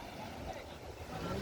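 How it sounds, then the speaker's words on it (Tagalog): Waves roll in at a seaside sanctuary in Maragondon, Cavite, heard as a steady, fairly faint wash of surf without any breaks. "walang ano dyan, malakas ang alon eh"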